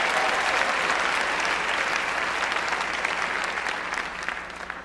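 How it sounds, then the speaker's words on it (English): Sustained applause from a commencement audience honoring awardees fills the space for about five seconds, dense and even, slowly tapering at the end with no speech over it. "let's give them one more round of applause so we're reminded about them"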